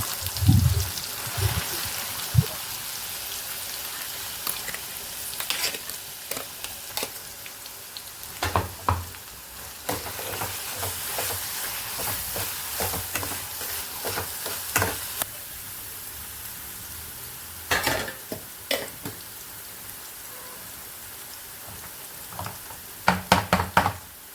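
Ground masala paste fries quietly in oil in a pan, a faint sizzle broken by scattered spoon knocks and scraping stirs, close by, with no talking.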